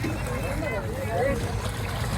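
A speedboat loaded with pangas fish on the Padma river drones with a steady engine rumble, with water and wind noise around it, while someone talks loudly close by.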